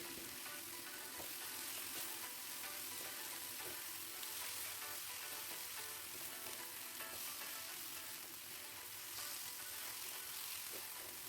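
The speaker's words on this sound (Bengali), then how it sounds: "লবণটা দিলে সুন্দরভাবে টমেটো আর পেঁয়াজটা গলে যাবে আমি আরও নাড়াচাড়া করে নিচ্ছি দু চার মিনিট" Tomato and onion frying with salt in a pan, a steady dense sizzle running throughout with soft scraping of stirring mixed in, close and even, no voices.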